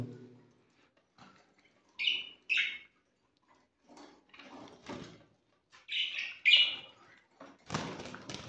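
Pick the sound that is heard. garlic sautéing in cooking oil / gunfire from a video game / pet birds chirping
pet birds chirping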